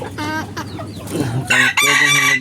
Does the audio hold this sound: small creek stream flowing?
no